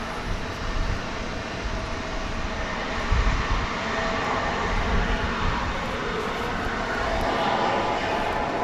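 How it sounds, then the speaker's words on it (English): Loud, continuous roar of jet aircraft engines, steady and broadband, with a swell midway as a plane passes close by, at DFW Airport. "So we've got planes in front of us,"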